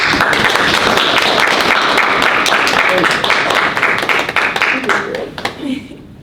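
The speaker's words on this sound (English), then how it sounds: "We can give a round of applause." A room full of people claps in sustained applause after an artist talk, gradually thinning out and fading toward the end.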